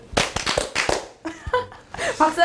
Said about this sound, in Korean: 세 박자 박수.